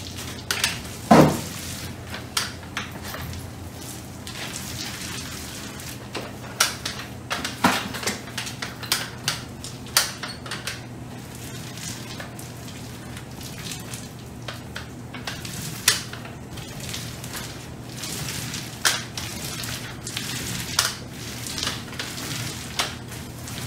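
Drywall knife skim coating a wall with joint compound, heard as repeated close scraping strokes and clicks in an irregular rhythm, steady over a low background hum.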